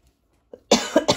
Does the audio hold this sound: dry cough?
yes